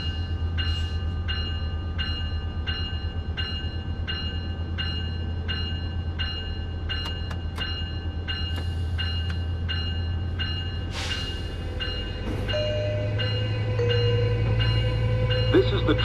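A Long Island Rail Road train in Train Sim World 6 rumbles steadily while standing at Penn Station, with a repeating chime-like tone and a few clicks before the engine pitch shifts and the train starts to move.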